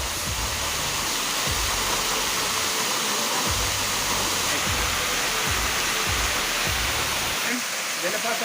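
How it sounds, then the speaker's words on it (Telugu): The rushing water of a waterfall roars loud and unbroken at close range, with a few deeper thuds and bumps underneath. "జలపాతంలో వెళ్తున్నాం."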